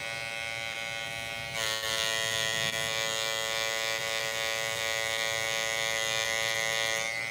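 An Andis Masters Black Label hair clipper runs with a steady electric buzz that grows louder and harsher partway through, then holds even without any voices.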